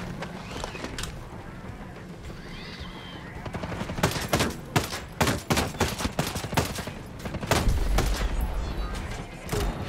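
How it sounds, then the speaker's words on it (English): Video game gunfire, a series of sharp loud shots in irregular bursts rising in density through the middle, over a continuous background game ambience with no speech. "Who's shooting at me?"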